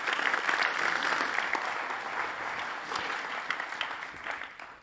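An audience at a welcome address gives a big round of applause, dense continuous clapping that stays fairly loud and gradually tapers toward the end.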